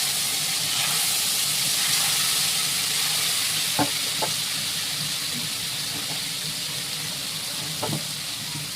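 Fish sizzling in hot oil in a kadai (wok), a steady dense frying hiss with a few brief pops and spatters, close and loud with no talking.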